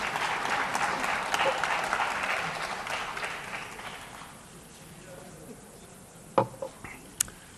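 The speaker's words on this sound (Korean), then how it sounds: "박수 치셔도 됩니다." Audience applause in a parliamentary chamber during a party floor leader's negotiating-group address, a dense clapping wash that fades after about four seconds, leaving quiet room noise with a few sharp knocks.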